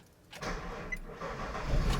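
A Nissan Xterra cranks and its engine catches just after drive belt replacement, followed by a steady idle rumble that grows slightly louder, heard up close with no talking.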